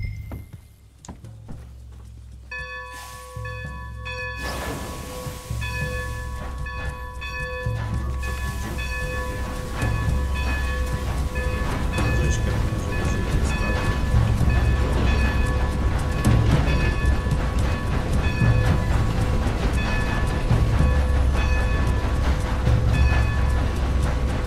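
A train rolls along in Red Dead Redemption 2 on PlayStation 5, a rising rumble and rattle with ringing bell-like tones over the rail noise, growing louder and steady through the stretch.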